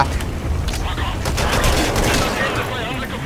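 Sustained gunfire in Metal Gear Solid V: The Phantom Pain, a dense rattling fusillade with no breaks that runs loud through the whole stretch.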